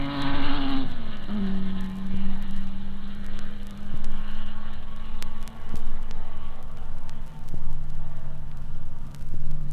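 Racing cars at the 1956 Sebring race, a Jaguar D-type among Ferraris: a loud engine note that drops in pitch early, then a sustained drone with repeated swells and dips as cars pass, with sharp clicks scattered over it.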